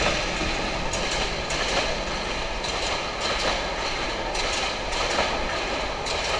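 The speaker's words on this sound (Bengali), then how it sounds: "এই দেখুন একটি ট্রেন।" A train rolls past nearby with a steady, loud rumble and rhythmic clickety-clack of wheels on rails that continues throughout.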